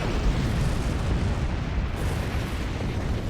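Starship torpedo and phaser fire in the Star Trek Online video game, a dense, continuous low rumbling barrage of booming blasts with no clear gaps, loud and close.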